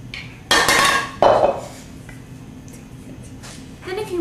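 Beer bread batter goes into a baking pan with a few loud clinks and scrapes of utensils against the pan, followed by a softer wet plop of batter, then quieter handling noises close by.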